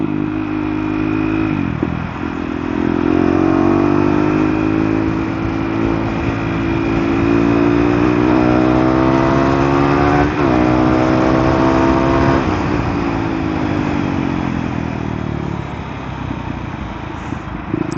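A KTM Duke 390 motorcycle engine revs up through quick gear shifts, its loud, close buzzing drone rising in pitch and dropping with each change, then holding steady before settling lower, with no talking.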